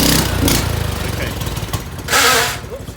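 A Canta LX mobility car engine drones and rises in pitch in bursts, with a sharp loud surge near the end, close by.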